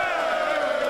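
Football stadium crowd roaring and cheering after a great Green Bay Packers win over the Dallas Cowboys, a sustained, dense wall of voices with no break across the short moment.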